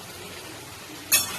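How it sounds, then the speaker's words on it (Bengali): Lid lifted off a pot of chicken steaming in its own juices, a single brief metallic clink near the end, close and clear against a soft background hiss. "এবার একটু ঢাকাটা খুলে দেখব"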